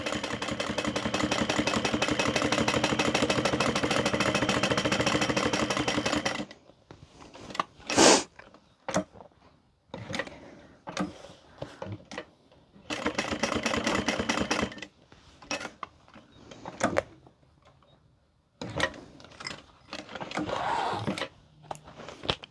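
A sewing machine stitches the box of a handbag: a steady, close mechanical whirr of rapid needle strokes for about six seconds, followed by scattered short clicks and brief stitching bursts with quiet gaps between.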